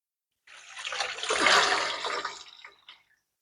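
Water running into a bucket while a Fluval FX6 canister filter is cleaned, a broad rushing pour that swells over about two seconds and then tapers off, alone with no talk.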